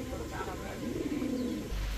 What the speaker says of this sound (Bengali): এখন দেখাবো শ্যাডেল একটা কবুতর